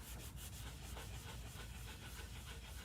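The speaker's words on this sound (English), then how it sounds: "I take my Scotch-Brite to it, it's taking the old finish off" A Scotch-Brite pad scrubs steadily against an old chair finish, giving a continuous close rasping rub with a fast back-and-forth rhythm. The level is quiet and even, and no one speaks.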